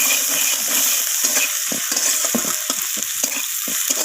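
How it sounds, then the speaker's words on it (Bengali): Spices with ginger paste are stirred and fried in a pan for red lentil dal, a constant loud sizzle broken by rhythmic scraping strokes of a spoon, close up with no talking. "সমস্ত কিছু মশলা এইভাবে আমি নাড়াচাড়া করে একটু কষিয়ে নিলাম"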